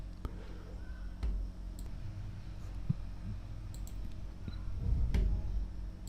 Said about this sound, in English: So just double click it to extract this zip file.